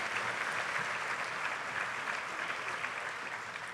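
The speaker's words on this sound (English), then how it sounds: "Please give Matt Gold and Phil Primo a nice round of applause from PSD TV." Steady applause from an audience at an elementary school honor choir concert, a dense wash of clapping that holds evenly throughout without pauses or voices.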